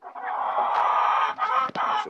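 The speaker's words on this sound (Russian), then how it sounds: "Здесь он джерси. Сидит петух. Две курицы." Jersey Giant chickens, a rooster among hens, cluck loudly and close in a continuous, throaty run of calls with a few brief breaks.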